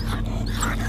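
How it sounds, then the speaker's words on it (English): A military assault dog whines and yelps briefly, close and loud, over a low steady mechanical hum. "Don't release the dog!"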